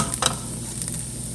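Fried rice ingredients sizzle in a dry pan with no oil while being stirred and spread out, a steady close crackle with a couple of brief scraping strokes over about a second.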